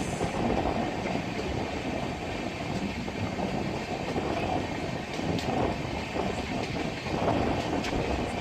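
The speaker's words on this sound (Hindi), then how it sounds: "अभी ट्रेन बोरीवली से निकली है" The Saurashtra Mail Express runs on rails near Borivali in early-morning darkness, producing a continuous loud rumble with rhythmic clatter of wheels over track joints, heard from inside the moving train with no voices.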